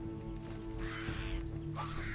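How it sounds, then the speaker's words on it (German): A bird caws twice in the video game Risen, harsh rasping calls over a steady game background hum, moderately loud, with no talk. "Oh, da ist noch so ein Vogel."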